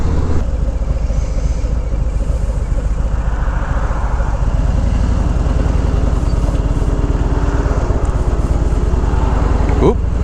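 A 2017 Harley-Davidson Road King motorcycle engine rumbles steadily while riding, a continuous low throb with wind noise, close and loud throughout.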